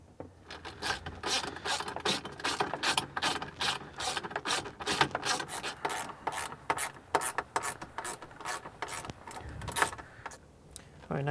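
Ratcheting clicks from tightening down the mount of a Humminbird SOLIX in-dash screen on a skiff, a rapid, steady run of sharp mechanical clicks close by, with no talk.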